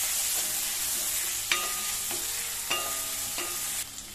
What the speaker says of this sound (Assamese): মই বিলাহীখিনিও ভালদৰে ভাজিম।